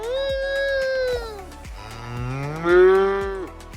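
A cow lows loudly and close by in two long drawn-out moos, the second rising and straining, with sharp clicks ticking in the background.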